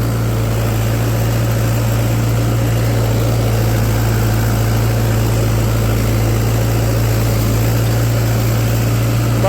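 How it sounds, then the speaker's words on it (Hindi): A Mahindra tractor engine labours under heavy load with its revs pulled down, a loud, steady, deep drone that continues unbroken without any voices. "देखो भाई क्या हाल हो रहा ट्रैक्टर का, चक्कर 1800 से आगे 1500 पे।"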